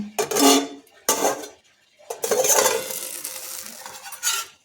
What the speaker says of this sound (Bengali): এখন এটা ঢাকাটা খুলে নিচ্ছি।